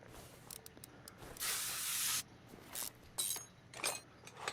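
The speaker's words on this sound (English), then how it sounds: "Give a good spray on the old lug nuts." Aerosol spray hisses onto the lug bolts of a car wheel in Car Mechanic Simulator 2021, one long burst followed by several shorter puffs, fairly quiet.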